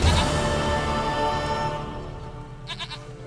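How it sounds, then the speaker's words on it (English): Goat bleats from The Witcher 3 video game, a short burst of three or four quavering cries near the end over a steady bed of in-game music and ambience. "Goat of mine, dearest, sweetest goat."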